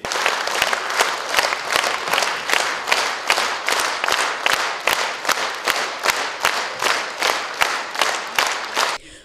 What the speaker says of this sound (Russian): давайте вместе с вами аплодисментами поздравим их с юбилеем